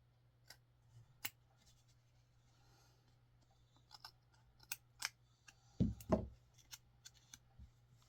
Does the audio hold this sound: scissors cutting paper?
yes